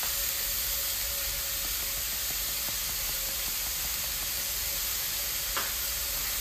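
Meat and garlic sizzle steadily in a hot pan, a constant close hiss with faint clinks and one brief scrape near the end, no talking.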